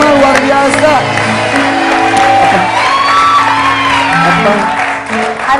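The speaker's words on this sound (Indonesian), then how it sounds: "Tepuk tangan kelima, luar biasa." Studio audience at an Indonesian TV show applauds, whoops and shouts loudly throughout, with voices and music mixed underneath the sustained crowd noise.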